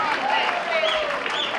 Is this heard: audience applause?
yes